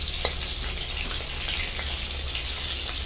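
Nile tilapia pieces fry in oil with a steady close hiss and crackle, joined by occasional soft clicks from handling, at an even level with no voices.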